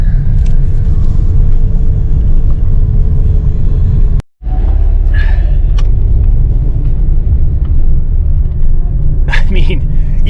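Car driving slowly along an unpaved road in Istria, Croatia, a loud close rumble of engine and tyres on rough ground with a brief gap midway, continuing steadily to the end.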